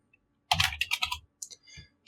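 Rapid bursts of keystrokes on a computer keyboard, a quick cluster of clacking taps followed by a few sparser presses, close and clear with no talking.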